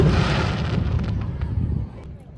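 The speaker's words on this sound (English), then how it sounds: "apparently every day at 8 p.m. fireworks happen in American Village" Fireworks bursting at American Village in Okinawa, Japan, a dense run of loud, booming explosions and crackles rolling together over about two seconds, with voices of a crowd mixed in.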